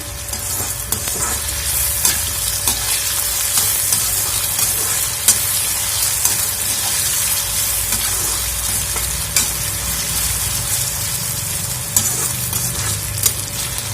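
Potatoes frying in a pan give a loud, close, continuous sizzle with frequent small crackles and pops over a steady low hum, with no talking.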